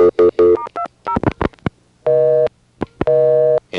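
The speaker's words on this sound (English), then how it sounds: "And it's busy." On a 1A ESS Centrex line, quick dialing tones give way to a loud telephone busy signal, two long steady buzzing bursts separated by a short gap, with no voices.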